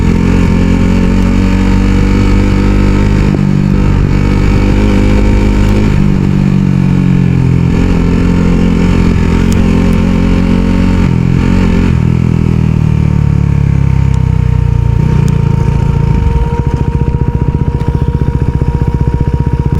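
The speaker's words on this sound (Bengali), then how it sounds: "ব্রেক ধরি নাই ইঞ্জিন ব্রেকই শুধু ধরতেছি" A motorcycle rides without its brakes, slowing on engine braking alone. Its engine hums loud and close and holds steady for the whole stretch, with gradual changes in pitch as the revs fall and rise.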